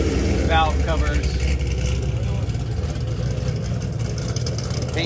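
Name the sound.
LS V8 engine running at a car show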